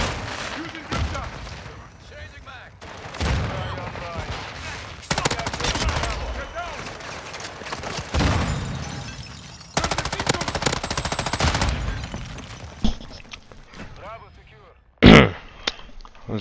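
Video game gunfight with a Fennec submachine gun, with repeated loud rapid automatic bursts in quick succession and brief gaps, a sharp blast near the end, and a player talking over the shooting.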